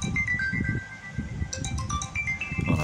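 A smartphone ringtone from a Qilive Q8 plays through its weak loudspeaker, a thin chiming melody of short tonal notes sitting fairly quietly over a background rumble.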